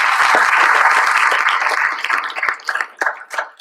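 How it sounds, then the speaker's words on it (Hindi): An audience at a book event in Hindi gives a loud burst of applause that stays dense and steady for nearly two seconds, then thins into scattered, fading claps. "एक बार इनके लिए जोरदार तालियां।"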